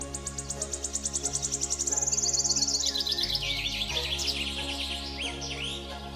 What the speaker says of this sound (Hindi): अलग अलग प्रजातियों के पक्षी एवं उनकी ध्वनियां